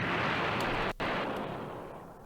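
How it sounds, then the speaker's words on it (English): A Dragon Ball Z style explosion sound effect dropped into a music beat gives a loud, dense roaring blast. It cuts out briefly, then returns and slowly decays over about two seconds. "this randomly DBZ explosion I added in between just cause"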